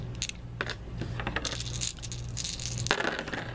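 Six dice rolled during an Arkham Horror board game session, clattering and rattling on a table in a quick burst of sharp plastic clicks, with a final louder knock near the end.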